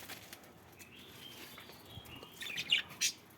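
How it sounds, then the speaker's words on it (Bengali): Pet birds kept in cages chirp and tweet softly, with a few sharper, louder calls clustering toward the end over quiet background noise. "এখান থেকে পাখিগুলো পানি খায়"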